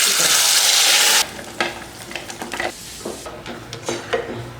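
Loud hiss of ground apple frying in hot ghee for apple halwa cuts off abruptly, then a spoon scrapes and stirs in a pan in irregular strokes over quieter sizzling.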